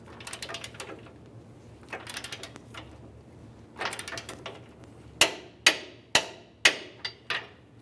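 A torque wrench tightens a control arm bolt on a 2004-2015 Nissan Titan to 103 foot-pounds, starting with soft ratcheting and tool handling, then a series of six or seven sharp, loud metallic clicks close by.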